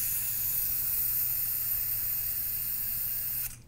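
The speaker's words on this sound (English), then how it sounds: "If you hold it this way and you try and inject it in, you're just pushing propellant, but no fuel." Propellant gas hissing from a nozzle while a torch is being refilled, a steady, loud, close-up hiss that runs unbroken and then cuts off abruptly at the end.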